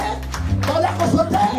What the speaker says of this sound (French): Acclamez fortement.